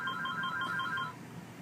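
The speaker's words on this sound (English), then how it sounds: "The phone rang." A telephone rings in a store, giving one burst of rapid repeated electronic trills lasting about a second before it stops, fairly close and clear above a quiet background.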